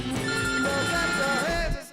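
A phone rings with a bright, warbling electronic ringtone at a loud, close level, with no talking, cutting off just before two seconds.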